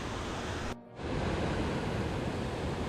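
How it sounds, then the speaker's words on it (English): Pounding waterfall water at Silver Falls State Park in Oregon roars as a steady, distant broadband rush, briefly dropping out for a moment before resuming. "Heading on toward pounding water that I could hear in the distance."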